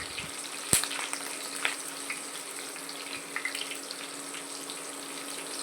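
Whole spices, green chillies and curry leaves sizzling in oil for a pulao tempering: a steady bright fizz with one sharp pop near the start and small scattered crackles, fairly close.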